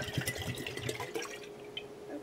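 Coconut water trickles and drips steadily into a jar, a soft continuous pouring with small splashes, close by and fairly quiet.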